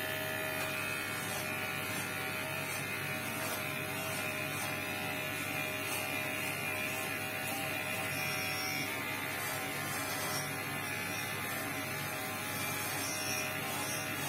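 Electric hair clippers buzzing continuously while someone cuts their own long hair, a close, steady motor drone with slight shifts in pitch as the blades move through hair.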